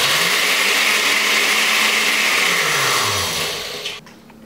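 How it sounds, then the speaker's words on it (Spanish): A kitchen blender pulverizing walnuts together with cookies runs loud and steady with a motor whine that drops in pitch near the end before switching off, alone with no talk. "lo único que vamos a hacer es licuar un poquito para incorporar la galleta"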